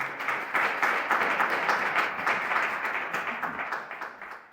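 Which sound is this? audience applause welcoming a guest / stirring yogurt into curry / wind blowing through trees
audience applause welcoming a guest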